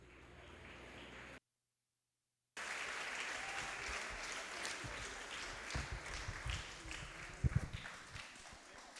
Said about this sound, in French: Applaudissez encore, s'il vous plaît, à la grande chorale.